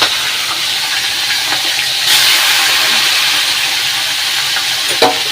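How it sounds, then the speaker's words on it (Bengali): Shrimp dropped into hot oil in a home kitchen, giving a steady, loud broadband sizzle with a brief surge partway through and a sharp pop near the end, no talking. "এই তেল গরম হয়ে গেছে এখানে, এবারে মাছগুলো দিয়ে দিই সব কটা একবারে।"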